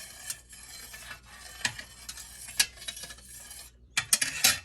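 A spoon stirs warm goat milk for cheese inside an Instant Pot, scraping and clinking against the metal insert in an uneven series of soft strokes and sharper taps, close and fairly quiet.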